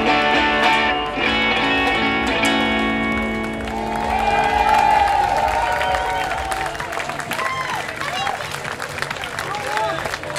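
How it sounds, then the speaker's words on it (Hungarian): A concert audience applauding, a broad wash of clapping and cheering from a crowd that swells and carries on after the music fades out. "Jár a taps nektek is!"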